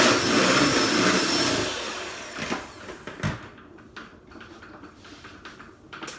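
Electric mixer whipping cream for a blueberry cream cake, a steady loud motor whir for the first couple of seconds, then stopping and leaving scattered kitchen clatter and bumps.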